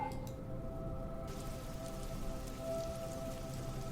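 Steady rain from a thunderstorm fills the background as tabletop game ambience, with a dense even patter and a faint low hum beneath, no voices.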